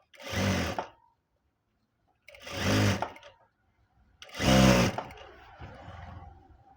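A sewing machine stitching folded cloth in three short bursts of whirring, each about half a second long and separated by silence, the last burst trailing into softer fabric handling.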